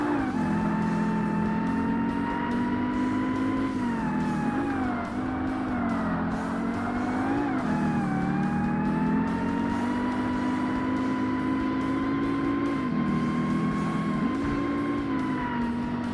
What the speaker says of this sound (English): it's really easy to hit the rev limiter in this car